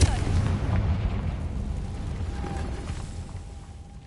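A booming fire-spell blast from the Confringo curse in Hogwarts Legacy, loud at the start and rolling off into a fading rumble over a few seconds.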